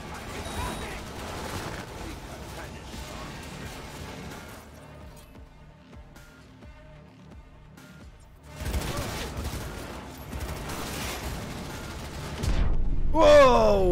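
A battle between Militech and Maelstrom forces in the video game Cyberpunk 2077: dense bursts of gunfire with crashes and booms, quieter through the middle, then a loud, sustained barrage near the end.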